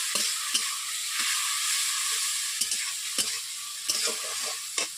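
Water poured into a hot pan for a Bengali fish curry of nona mural fish, bursting into a steady close sizzle with repeated scraping stirs and clinks throughout.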